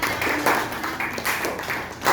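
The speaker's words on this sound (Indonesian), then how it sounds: "Dan kita beri tepuk tangannya dulu" A classroom gives a student applause after she presents at the front: steady, moderately loud clapping from several people that runs the whole time in an uneven, busy patter.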